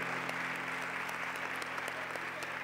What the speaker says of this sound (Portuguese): Você quer aplaudir?